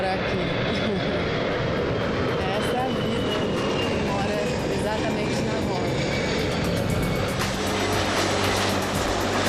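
Airplane flying low over homes on the approach path to Congonhas airport in São Paulo, a steady loud broadband engine roar that fills the whole stretch without fading.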